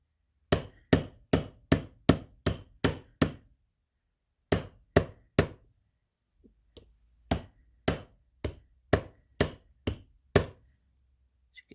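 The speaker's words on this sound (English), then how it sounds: "This is my Impress Art hammer." An Impress Art metal hammer strikes wire on a bench block while jewelry is being made, giving sharp, ringing metallic blows in quick runs of about eight, then four, then eight, each crisp and close, with brief pauses between runs.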